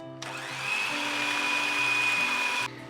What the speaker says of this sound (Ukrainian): Збиваємо цукор з яйцем.